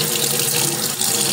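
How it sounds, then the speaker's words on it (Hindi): A tap runs steadily as water is drawn to add a few drops to a remedy for a partridge, giving a loud, close, continuous splashing hiss. "थोड़ा सा पानी लेता हूँ और कुछ कतरे इसमें डाल रहा हूँ"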